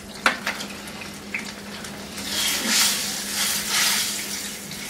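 Four thick-cut garlic cloves fry in two tablespoons of hot oil in a frying pan for Hyderabadi khatti dal, with a few sharp clinks early on, then a steady sizzle that swells and holds close by, no voices.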